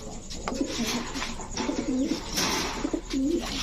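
Racer pigeons coo close by in repeated soft, throaty phrases, several calls in a row with brief pauses between them.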